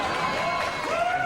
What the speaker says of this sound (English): I'm afraid to know what you're applauding at there.